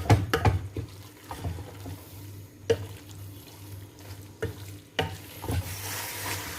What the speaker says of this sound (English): The meat to get like a little bit browned.